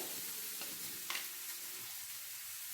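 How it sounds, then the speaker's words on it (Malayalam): Ginger paste and onion sauté in a pan for a soya ball curry, a soft, fairly quiet sizzle with a brief stirring scrape partway through. "ഇഞ്ചി പേസ്റ്റ്, ഇതെല്ലാം കൂടെ നമുക്ക് നന്നായിട്ട് വഴറ്റി എടുക്കണം"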